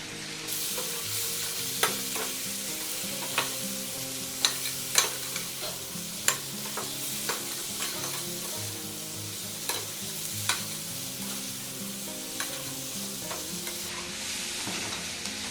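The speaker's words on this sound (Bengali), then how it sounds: "এটা ভালো করে কষে নেব।" Mutton and onion sautéed in a pan for a Bengali mutton salan, with a steady sizzle and repeated sharp scrapes and clacks of a spatula stirring the meat throughout, close and with no talking.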